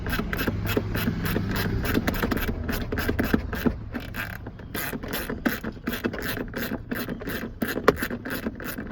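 A ratchet wrench clicks rapidly in steady bursts while backing deep-threaded bolts out of a 2001 Toyota Tundra during an ignition switch replacement, close and fairly loud with scraping metal between strokes.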